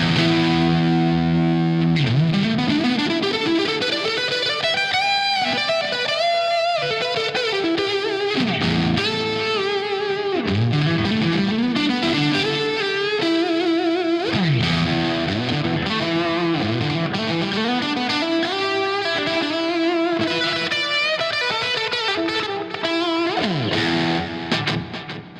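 Electric guitar through a Cherry Tone Plexi amp with tape delay from an aux box and low gain, playing sustained melodic lines, bends and chords with echoing repeats, loud and continuous with no talking.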